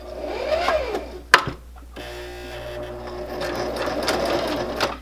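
A sewing machine stitches around a fabric coaster, a continuous close mechanical whir with a brief sharp clack partway through before the steady running resumes.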